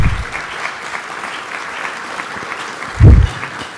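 Sustained applause from an audience at a conference luncheon fills the room at an even level, with a brief louder thump partway through.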